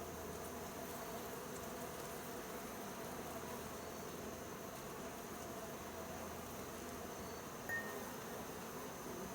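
Honey bees streaming out of an opened hive during varroa mite sugar-roll checking, a soft continuous buzzing drone that stays steady and close, with no talk over it.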